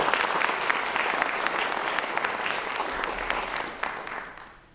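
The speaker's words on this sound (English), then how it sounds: "All right, so how about another round of applause for all of our poems?" An audience at a middle school young writers' evening gives a loud, sustained round of applause for the students' poems, the dense clapping tapering off at the end.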